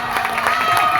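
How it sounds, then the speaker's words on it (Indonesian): Brief burst of applause and cheering from a congregation for the MC at a New Year thanksgiving church service, loud and dense for about a second. "tepuk tangan untuk MC dulu"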